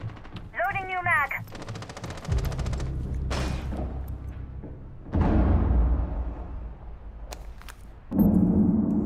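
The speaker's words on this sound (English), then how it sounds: "Loading new mag." A magazine reload in Rainbow Six Siege: clicks and metallic clacks of a mag being swapped, set amid loud bursts of gunfire and game noise, with a voice talking over part of it.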